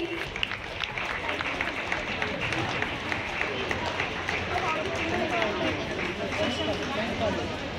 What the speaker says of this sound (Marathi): एकदा जोरात टाळ्या झाल्या पाहिजेत या कलाकारासाठी